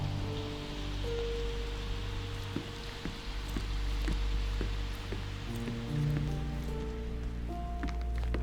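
Steady rain falls in the Sherlock Holmes Chapter One video game, a dense, even patter of drops with a few sharper ticks, over a low ambient drone and some sustained musical tones.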